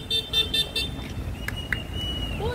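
Car horns toot in a quick series of short honks, followed by a couple of isolated beeps amid street traffic noise, somewhat distant.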